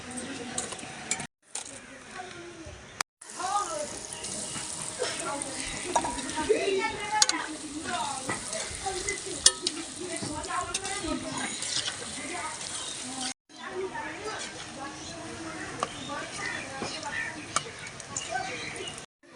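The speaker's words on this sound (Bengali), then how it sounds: "এইভাবে কম আঁচে কিন্তু ভেজিটেবল চপগুলি ভেজে নিতে হবে" Vegetable chops fry on a low flame in a pan, with a soft steady sizzle, utensil scrapes and turning sounds, broken by a few short silent gaps and faint background voices.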